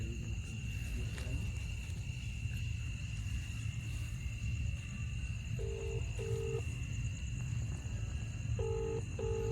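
A phone's ringing tone sounds in short paired beeps, repeating twice, over a constant low rumble and a faint high electronic whine.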